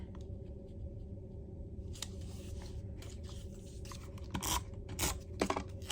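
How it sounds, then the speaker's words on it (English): Tape pulled off a roll and torn in short, scratchy bursts while taping paper down for a sketchbook page, with rasping strips clustered toward the end over a steady low background hum. "I'm just pulling and taping."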